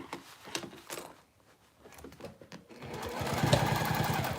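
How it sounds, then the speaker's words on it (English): A sewing machine stitches around a bag, a rapid mechanical chatter that starts after some quieter handling noises and runs steadily and close at the end. "I'm sewing"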